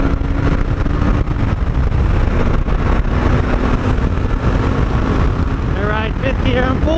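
KTM 390 Duke motorcycle riding out on curvy road, a steady loud engine drone with constant wind rush close to the rider, and a brief voice near the end.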